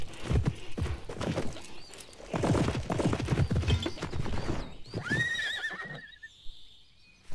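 A horse in a video game clip-clops in quick hoofbeats, then rears with a loud, shrill whinny near the end, clear and close with no talk.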